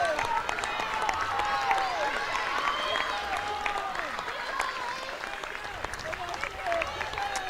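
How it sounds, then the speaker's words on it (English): Crowd at an athletics finish line during a state combined events championship, a steady, dense wash of cheering, calling and applause sustained throughout, with announcer-style talk faintly mixed in. "it's really heartwarming to hear the crowd calling them home."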